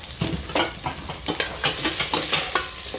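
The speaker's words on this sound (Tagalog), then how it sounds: "Igigisa muna natin." Pork ribs sautéing in a pan for sinigang, a steady sizzle and crackle with repeated scraping stirs of a utensil against the pan, close and fairly loud, with no talking.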